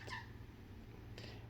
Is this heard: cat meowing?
yes